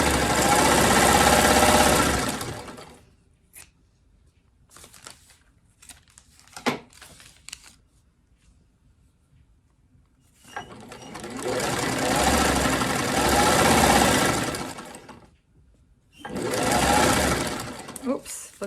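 Sewing machine running fast stitches through quilt strips for a spider web string quilt, two long loud bursts and a shorter one separated by quiet handling sounds and talk.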